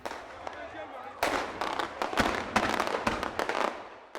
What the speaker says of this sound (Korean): 이렇게 계속해서 터지는 폭죽